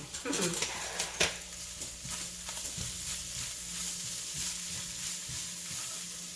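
Pickled sour bamboo shoots sauté in a hot pan, giving a steady, close sizzle with clanks of a utensil against the pan near the start and scraping stirs throughout.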